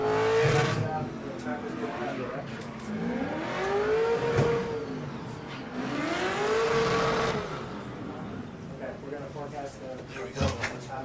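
A drift race car at Irwindale Speedway revs hard, the engine note rising and falling in repeated sweeping surges at a moderate distance, under steady commentary talk.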